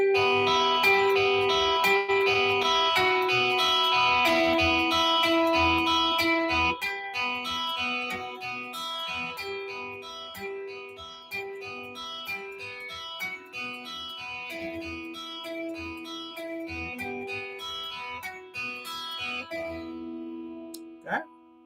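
Guitar arpeggio exercise in groups of four notes, steady picked notes ringing together at moderate volume, played alone and fading near the end.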